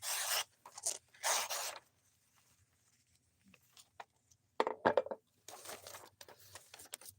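A knife struggles to start a cut, producing short, rough rasping strokes in separate bursts with quiet gaps between them, close and fairly faint.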